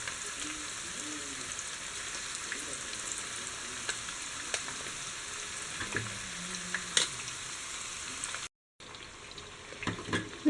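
Fish deep frying in oil for Kerala fish pickle, a constant bubbling sizzle up close with occasional clinks, broken by a brief gap near the end.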